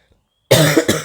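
A sudden burst of harsh coughing after a near-silent start, two or three loud rough coughs in quick succession, close to the microphone.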